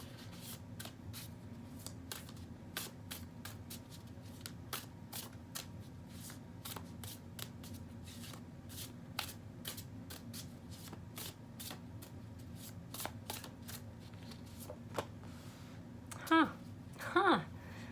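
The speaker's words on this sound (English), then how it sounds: "Y'all saw me shuffle these cards." Tarot cards riffle and flick in a rapid, uneven run of crisp snaps, close up, ending with a couple of louder rustles.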